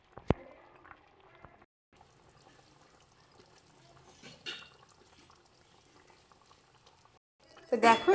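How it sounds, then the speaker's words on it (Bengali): Curry gravy for raw banana kofta bubbles quietly in a pot under a speaking voice, with a louder splash or stir right at the end. "দেখো এটা কিন্তু খুব সুন্দরভাবে ঝোলটা ফুটছে"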